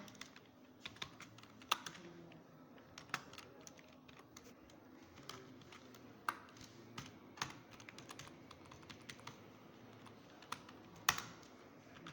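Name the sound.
typing code on a computer keyboard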